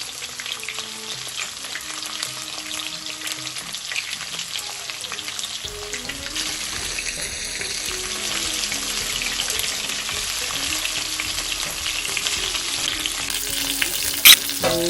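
Fish frying in a pan for a Bengali-style spicy salmon curry gives a steady, close sizzle throughout, with the hiss thickening and crackling more after the midpoint; no one talks.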